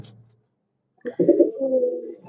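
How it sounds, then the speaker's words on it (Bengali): A pair of red checker racing pigeons coo close by: a short low murmur, a pause of silence, then a longer throaty rolling coo. "এবার দেখতেছেন এক পেয়ার রেড চেকার কবুতর"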